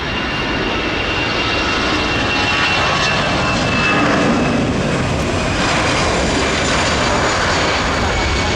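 An empty British Airways Boeing 747 takes off with a loud, continuous jet engine roar that swells slightly midway and stays strong throughout.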